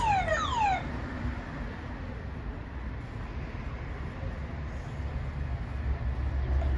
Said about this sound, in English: There's an alarm if you want to scare away any intruders.